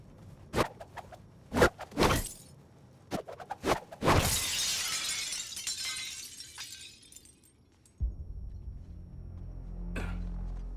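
Glass shatters in the Suicide Squad: Kill the Justice League video game: several sharp cracks and thuds, then a loud, sustained spray of breaking shards that trails off into a low rumble and a faint tinkle.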